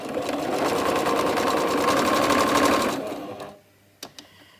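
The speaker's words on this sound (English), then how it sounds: "I'm just going to finish sewing all the way around the outside" A sewing machine stitches steadily around the outside edge of a fabric bag made to hold a rotary cutter, running with a fast, even rhythm for about three seconds before stopping, followed by a couple of small clicks.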